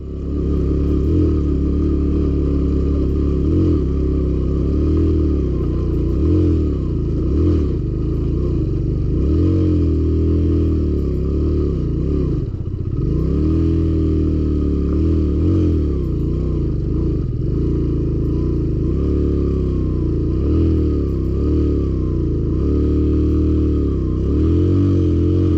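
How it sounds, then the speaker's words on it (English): A motorbike engine strains and labors continuously climbing a steep mountain road, clutch slipped, its low rumble rising and falling as it revs under load, loud and close throughout. "The motorbike was struggling to make it up and I was using the clutch to try to get it going"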